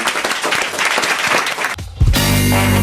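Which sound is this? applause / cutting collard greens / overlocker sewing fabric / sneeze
applause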